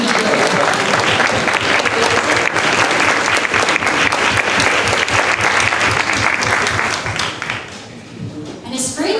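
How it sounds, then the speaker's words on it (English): Loud, sustained applause from a seated audience honoring educators at a Delaware public education program, dense clapping filling the room for about eight seconds before tapering off, with some voices mixed in. "recognize you with a round of applause for all of"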